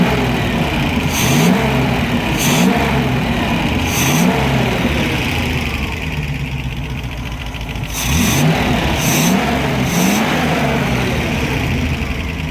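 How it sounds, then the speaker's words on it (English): A 1972 Range Rover engine idles with a knocking rumble and is revved in short bursts, about six quick blips in two groups of three, each rising then falling back, close and loud. "But when I just revved it just now,"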